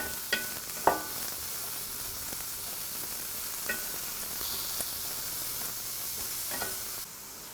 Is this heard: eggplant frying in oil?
yes